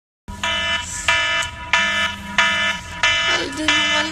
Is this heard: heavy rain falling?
no